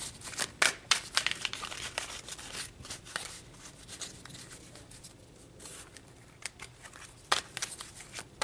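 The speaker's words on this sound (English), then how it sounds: "let's pull some more cards to get more information on those energies, Taurus" Tarot cards are shuffled and pulled in a quiet room, giving soft, irregular riffles, slaps and papery flicks in bursts with pauses between, close and fairly faint, with no speech.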